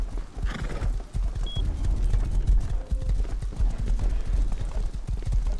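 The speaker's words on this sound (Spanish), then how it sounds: "no frena el caballo ese tuyo" Horse hooves clip-clop in quick, uneven succession in the video game Rust, loud and close, with a brief whinny and scattered game noises mixed in.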